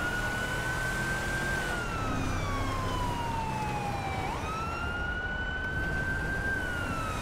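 A police car siren from the LSPDFR police game wails continuously, sweeping slowly down and back up in pitch over a steady background roar, loud and close throughout without any speech.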